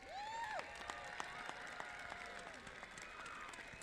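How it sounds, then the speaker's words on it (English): Sustained applause from a crowd at a commencement ceremony, steady dense clapping throughout, with a brief whistle-like tone at the start. "let's give them a round of applause"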